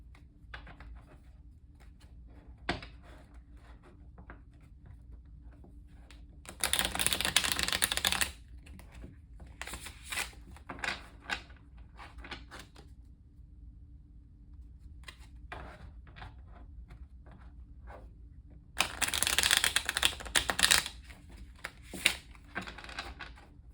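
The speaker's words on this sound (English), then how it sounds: "Let's go ahead and shuffle the cards." Cards riffle and shuffle in two loud dense bursts, separated by quieter tapping and handling of the deck, close up with no talking.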